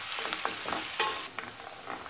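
Onions sizzle and crackle as they fry in oil in a hot pan, with short bursts of stirring and scraping, close up and steady.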